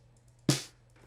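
A single processed snare drum hit, EQ'd and blended from top and bottom mics, cracks loudly and close with a smooth, short decaying tail, alone with no talk.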